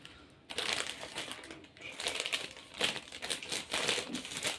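Crinkly plastic biscuit snack bags, several of a dozen, being torn open and handled close by, with repeated bursts of sharp crackling rustle and short pauses between them.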